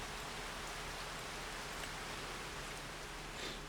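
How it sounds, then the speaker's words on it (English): Steady rain falling over open farmland, a faint, even hiss of drops with no talk. "It is raining, but it's not in the forecast."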